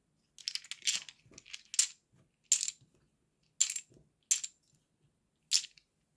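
Dice rattle and tumble in short bursts for a tarot reading, a series of sharp clicking clatters separated by silence, fairly close and quiet with no talking.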